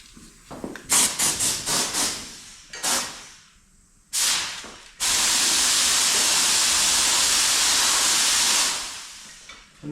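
A sealer gun sprays seam sealer onto the sill of a Volkswagen Up, with several short hissing bursts early on, a pause, then one long continuous close hiss lasting several seconds before it cuts off.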